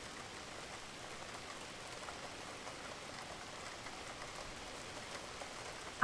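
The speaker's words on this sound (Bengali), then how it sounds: "মুষলধারে বৃষ্টি পড়ছে।" Heavy rain pours down in a dense, even hiss, steady throughout with no voices, ending in a brief sharp knock.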